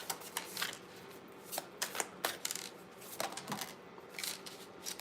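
Tarot cards being shuffled during a reading: quick papery riffles and flicks in a series of short, close bursts with brief pauses between them, and no talking.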